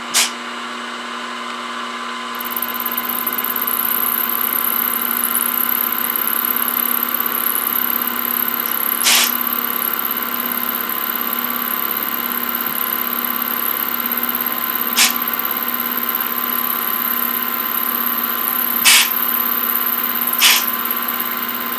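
A milling machine cutting a slot hums and whines steadily and loudly throughout, with a constant high-pitched tone, broken by several short sharp bursts from a foot-operated air blast clearing chips.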